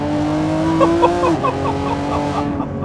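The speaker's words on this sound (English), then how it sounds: "Oh, crack on the overrun there on the shift." A 2025 Lamborghini Revuelto's engine crackles and pops on the overrun during a gear shift, a loud, close, steady engine tone dropping in pitch with a burst of sharp crackles midway, then fading.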